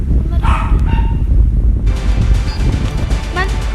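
A dog barks a few times amid wind buffeting the microphone, loud and close, with some rumbling noise throughout.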